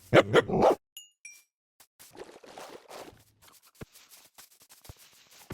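Two dogs in the video game Minecraft bark in a quick, loud burst at the start, followed by quieter yips, shuffles and scattered game sounds.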